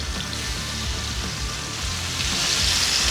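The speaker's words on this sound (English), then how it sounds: "We're throwing these in the pan. We're gonna sear these" Bacon-wrapped filet mignon searing in a hot skillet over high heat gives a loud, continuous close-up sizzle with no pauses.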